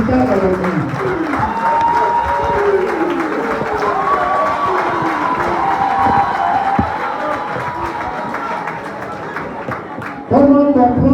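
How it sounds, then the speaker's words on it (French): A crowd at a political gathering applauds loudly and steadily while voices chatter and call out throughout, a dense wash of clapping that swells again near the end. "Je vous demande d'applaudir très fort M. Edson, un des pères du syndicat de l'ONU."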